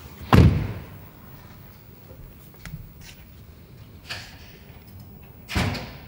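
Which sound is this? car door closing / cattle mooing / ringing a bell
car door closing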